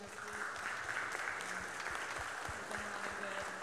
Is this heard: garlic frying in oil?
no